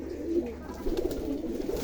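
Rajshahi Giribaz pigeons coo close by in soft, low, repeated rolling calls, with a brief pause before a second burst of cooing; no one speaks.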